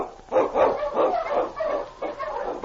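A husky lead dog barks in repeated loud, close bursts, a steady run of yelping barks typical of a sled dog on a snowy Yukon trail.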